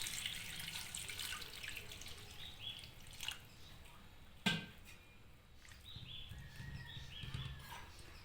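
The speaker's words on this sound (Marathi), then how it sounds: "डुबतपर्यंत पाणी घालू।" Water poured into a bowl to cover pieces of papaya being prepared for papaya peda, a faint, soft running trickle at a low level throughout, with a small splash near the middle.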